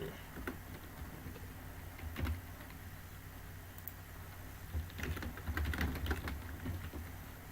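Quiet, uneven clicking of keys on a computer keyboard as code is typed, with soft bursts of keystrokes and brief pauses, faint and close, with no talking.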